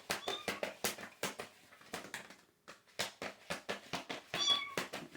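A small cat meows repeatedly in short, close, clear calls with brief pauses, a quiet stretch midway and then more rapid meows.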